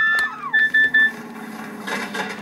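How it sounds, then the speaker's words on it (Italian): A mobile phone rings in Goat Simulator with a short electronic ringtone: a falling tone followed by a run of clipped beeps, clear and close, then a softer electronic jingle trailing off. "questo è il mio cellulare"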